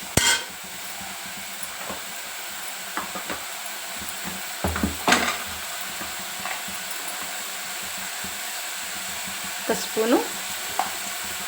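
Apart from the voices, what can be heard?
radish frying in oil, being stirred in pan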